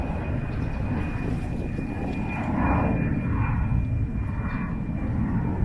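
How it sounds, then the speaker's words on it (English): An airplane passes overhead with a steady, broad engine roar that swells slightly in the middle and holds throughout, loud and unbroken, with no talking. "let's wait for that airplane."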